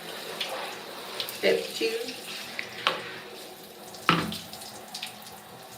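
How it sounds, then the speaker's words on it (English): Tap water runs steadily over hair as conditioner is rinsed out during a curly-hair wash, with splashes and small knocks, while a voice speaks briefly. "So now we're rinsing. This is our Masters Collection conditioner that we're rinsing out right now."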